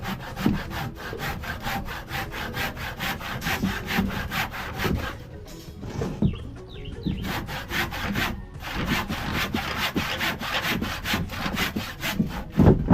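A hand saw rasps steadily through wood in quick, regular back-and-forth strokes, pausing briefly midway before resuming at a close, loud, even rhythm.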